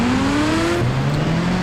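A fire bike's engine in a video game revs with a steady droning whine that drops in pitch partway through, loud and close, with no other sounds.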